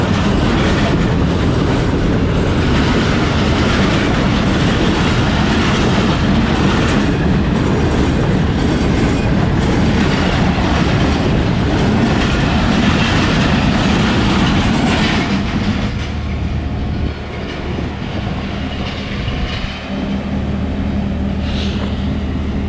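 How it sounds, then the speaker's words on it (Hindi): The Karakoram Express passing on a Pakistan railway line, a loud, close rush of rolling carriages with rapid clickety-clack wheel beats and continuous rumble, easing slightly near the end. "कराक्रम एक्सप्रेस ओवरटेक कर रही है"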